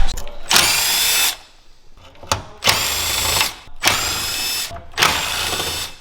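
A power tool whirs in four short bursts, each about a second long with brief pauses, close and loud, as 10 mm bolts come off a Chevy Silverado truck during a hidden light bar install.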